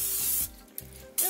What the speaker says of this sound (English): I'm going to just spray some of this spray in there